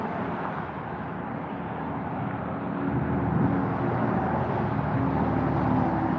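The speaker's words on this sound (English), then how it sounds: "Again, sorry about the road noise." Road traffic near a river and treatment plant, a steady broadband roar of passing vehicles that swells slightly, heard outdoors without talking.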